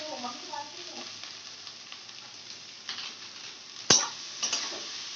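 Carrots, beans, onion and chilli frying in a pan with a steady soft sizzle, broken near the end by a sharp metallic clink of a utensil against the pan and a few light scrapes.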